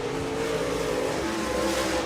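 Race cars in a Modified-class oval race roar steadily past at a distance, a continuous engine drone with a slight shift in pitch partway through, no voices.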